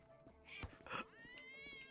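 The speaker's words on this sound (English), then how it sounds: "Oh, there's another cat right here." A cat meows in the video game GTA: a short, faint mew, then a longer rising-and-falling meow close by, quiet over faint game ambience.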